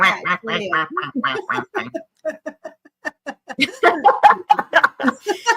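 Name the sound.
person imitating duck quacking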